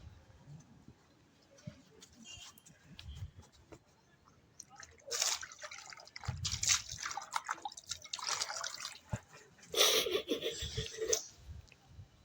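Water drips and splashes onto a person during a hide-and-seek punishment challenge, in irregular patters and short clustered bursts against a quiet background.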